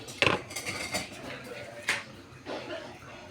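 A metal lid set onto a cooking pot while a home soup is made, giving a sharp clink followed by a few lighter clatters, near and clear.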